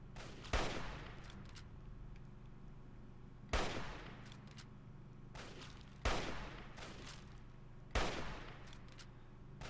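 Gunfire from a firefight against super mutants in the video game Fallout 3. Four sharp, loud shots or bursts come at spaced intervals, and each rings out over a steady low rumble of background noise.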